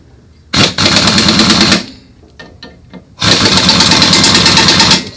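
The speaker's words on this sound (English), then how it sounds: "So I'm just going to put my impact gun on the lowest setting." A pneumatic impact gun set to its lowest setting rattles loudly in two sustained bursts, each lasting over a second, separated by a short gap with faint clicks.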